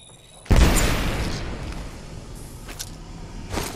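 A sharp, loud burst from an Arc Star grenade in Apex Legends erupts suddenly, then decays into a lingering crackling rumble with a few smaller pops trailing off.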